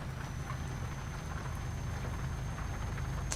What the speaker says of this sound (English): So it definitely sounds like rain